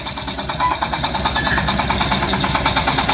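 A small Japanese tractor engine with a cab runs with a rapid, steady knocking chug, close and fairly loud, without any change in pace.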